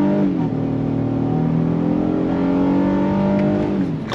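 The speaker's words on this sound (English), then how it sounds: "Second gear, on throttle," A 2022 Honda Passport Trailsport accelerating hard in second gear, its engine drone close and loud with harmonics climbing steadily as revs build and no talk.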